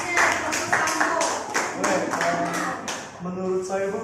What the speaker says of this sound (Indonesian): Bagus, tepuk tangan dari Surya dari kelompok Sambo.